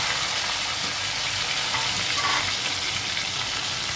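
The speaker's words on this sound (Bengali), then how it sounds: "এবারে হাই হিটে এটা ভেজে নেওয়া যায়" Chicken pieces frying over high heat, a loud, continuous hissing sizzle in a pan that stays steady throughout, close and without any talking.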